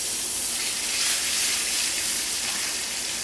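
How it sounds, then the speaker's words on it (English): A ribeye steak sears in a hot cast iron pan with a steady, loud, close sizzle and hiss. It holds continuously throughout, with no voices. "Just listen to that sizzle."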